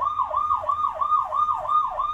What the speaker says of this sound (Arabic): موتوسيكل الشرطة سريرة الشرطة زي ما حضراتكم سامعين